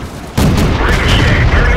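A tank shell ricochets off a heavy tank's armor in World of Tanks: a single loud, sudden metallic boom close up, followed by a sustained roaring rumble.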